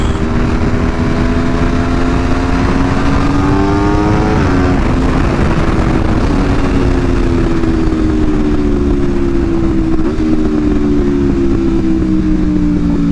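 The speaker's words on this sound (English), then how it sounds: "Just the sound alone of this bike will make you want to buy it." Aprilia RSV4 motorcycle with a Spark titanium full exhaust on a twisty road, its engine droning loud and close with a steady high-revving note that rises and shifts between gears, under heavy wind rush.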